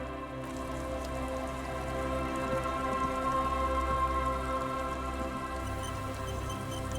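Rain falling in the video game Disco Elysium, a soft, continuous patter of drops on surfaces, quiet and even throughout with faint ambient tones beneath.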